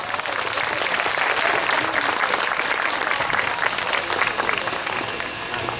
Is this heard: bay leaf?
no